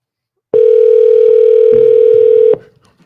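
A single loud, steady electronic phone-menu tone sounds after 9 is pressed, holding for about two seconds before cutting off sharply into quiet.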